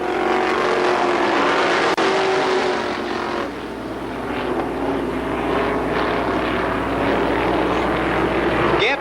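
Winged sprint race cars roar around Columbus Motor Speedway in a steady, loud engine drone, one continuous wash of racing noise heard from trackside, with no voices.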